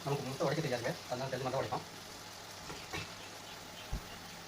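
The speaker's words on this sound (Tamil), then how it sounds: "இப்போ தினேஷ் ஊற்ற போகிறார் முட்டையை அடிச்சு" Beaten egg hits a pan in a hostel kitchen and fries with a soft, low sizzle beneath a voice talking, followed by quieter frying and a faint knock.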